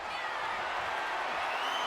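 A video game wrestling arena crowd roars continuously during a women's championship match, a dense, steady wash of cheering with no breaks.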